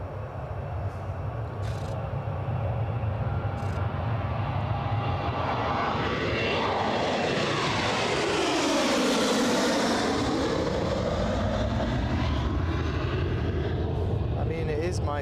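A fixed-wing airplane departing Newcastle airport, its engines roaring loudly and steadily throughout with a rising and falling sweep in tone as it passes, while voices talk faintly beneath.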